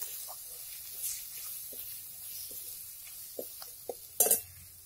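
Cooking in a pan, with soft sizzling under scattered scrapes and taps of a utensil being stirred, plus one louder clatter near the end; quiet and close, no voices.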